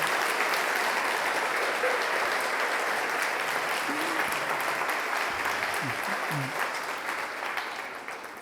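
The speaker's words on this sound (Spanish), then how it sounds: "Alguien dele un fuerte aplauso al Señor" A church congregation applauds the Lord in a dense, continuous wash of clapping that holds steady for several seconds and then gently tapers off.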